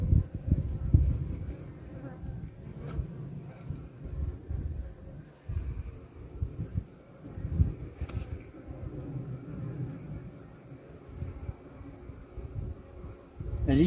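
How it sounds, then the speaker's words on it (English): Honey bees buzz in a dense, steady drone around a beehive in a beeyard, a low hum with wind rumbling against the microphone at times. "As you can see, we've got a lot of bees"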